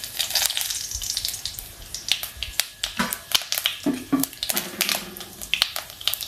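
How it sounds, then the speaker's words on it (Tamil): Mustard seeds, urad dal and dried red chillies splutter in hot oil for a Tamil tomato dal tempering, giving a dense run of sharp pops and crackles over a steady sizzle, close and fairly loud. "எண்ணெய் ஊற்றிருக்கேன், கடுகு உளுந்தம் பருப்பு போட்டுட்டு மிளகாய் வத்தல் போட்டுக்கலாம்"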